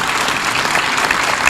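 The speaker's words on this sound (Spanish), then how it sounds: "al doctor Luciano Cruz Calderón, un aplauso por favor, bienvenido." Applause fills the whole stretch at the opening of a political event, a steady dense patter of many hands clapping from a crowd, fairly loud and continuous without a break.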